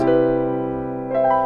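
A sustained piano major seventh chord rings full and warm, then a second chord is struck near the end, with no voices.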